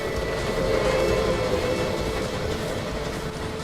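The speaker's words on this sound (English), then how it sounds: "Trains transported timber safely down the dangerously steep grades." Steady rumble of a Shay geared logging locomotive working along a mountain rail line on steep timber grades, a continuous loud rolling and mechanical drone with a faint whistle-like tone, no voices.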